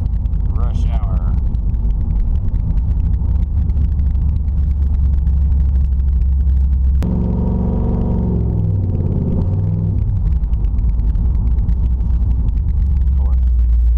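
A car with no mufflers driving in rush-hour traffic, its open exhaust producing a loud, deep rumbling drone that swells into a harsher rising roar midway as the engine revs, with voices talking inside the car.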